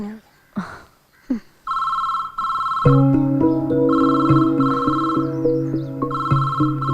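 A telephone rings in repeated bursts after a few short voices, continuing alongside a soft musical tone in the background.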